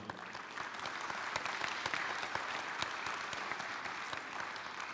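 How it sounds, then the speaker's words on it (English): A conference audience applauds a panel speaker at an AI and enterprise congress, a steady, moderately distant patter of many hands clapping evenly throughout. "please give a warm round of applause for Juan Antonio"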